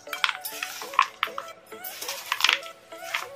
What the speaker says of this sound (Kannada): ಈ ಥರ ಸ್ಪೂನ್ ಸಹಾಯದಿಂದನೇ ಕಲಸ್ಕೋಬೇಕು